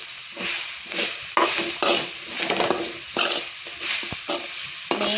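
Grated coconut being dry-roasted in a pan while it is stirred repeatedly for a fish curry, giving steady scraping strokes over a soft sizzle, close and moderately loud with no talking.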